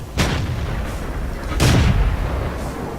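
Two heavy tank gun shots boom out in World of Tanks, each a sharp blast followed by a rumbling tail, about a second and a half apart, loud and close over low battle ambience.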